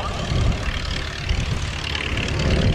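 Pitts Model 12 aerobatic biplane with a big front-mounted engine side-slipping on approach to land, a loud, rough propeller drone that pulses and swells over a few seconds, close and continuous.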